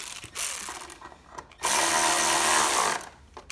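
A power driver whirs in two short bursts, tightening ignition coil bolts back onto a Briggs and Stratton small engine, the second burst longer and louder, with faint clicks around them.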